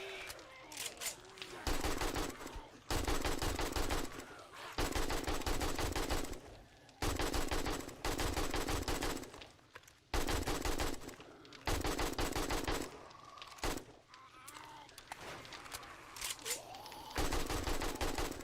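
Automatic gunfire in 7 Days to Die comes in long, loud rapid bursts separated by short pauses, repeating steadily throughout.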